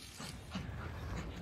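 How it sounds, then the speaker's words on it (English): A dog plays with an empty plastic water bottle outdoors at a woodyard, giving faint, close crinkling and creaking with low rustling, and no voices. "He's found himself an empty water bottle and having a ball with it."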